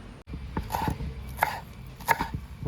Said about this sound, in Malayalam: മല്ലിയലയും ചെറുതായിട്ടാണ് അരിഞ്ഞു കൊടുക്കുന്നത്